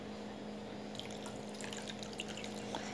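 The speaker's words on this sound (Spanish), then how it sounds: "Le voy a agregar una taza con agua y también le voy a agregar sal al gusto." Water poured from a cup into a pan of sausages cooking in tomato sofrito, a continuous wet splashing and bubbling that steadily grows busier, close and fairly quiet.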